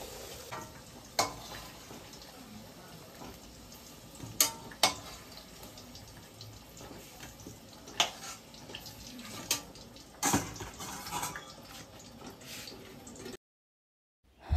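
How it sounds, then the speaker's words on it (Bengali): Potatoes frying in oil in a pan give a crackling sizzle with sharp stirring clatters and spatula knocks scattered throughout, then a brief drop to silence near the end. "সেমভাবে আলুগুলোকে ভেজে নেব একটু সুন্দর করে।"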